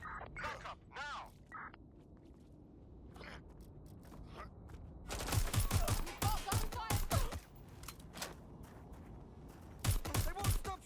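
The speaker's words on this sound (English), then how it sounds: "They won't stop shooting." Video game gunfire in Watch Dogs Legion, with bursts of rapid shots in two clusters, layered with game voices talking and brief mechanical clatter between volleys.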